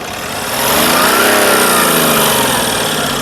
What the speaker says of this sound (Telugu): ఇంజన్ యొక్క నాయిస్ కూడా పర్ఫెక్ట్గా అయితే ఉంది